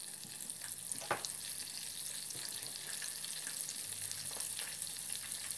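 Battered common morel mushrooms fry in hot oil, giving a soft, steady sizzle with occasional faint pops and stirring clicks, no voices present.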